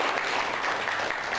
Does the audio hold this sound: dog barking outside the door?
no